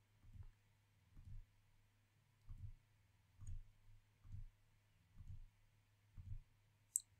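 A computer mouse clicks through a Git installer on a Windows PC: about eight soft, evenly spaced clicks, faint and close, with no talking.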